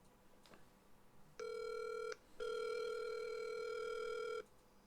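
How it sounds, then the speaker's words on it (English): A telephone call is placed: a brief click, then two steady ringback tones, a short one followed by a longer one, clear and close with no talking. "So I'm gonna bring in this phone call"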